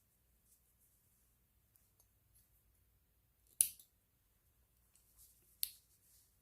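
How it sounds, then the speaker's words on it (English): Scissors snip the yarn tail on a crocheted knit-look sock, giving two sharp, close cuts a couple of seconds apart in an otherwise quiet room, with faint handling rustles between them. "You could cut it a little closer because it's not going anywhere if you want."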